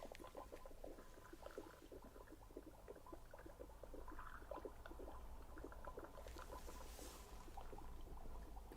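Soft, close watery bubbling and crackling, like liquid fizzing or gently boiling, plays quietly as a test sound in an ASMR cranial nerve exam, faint sputtering pops over a hushed background.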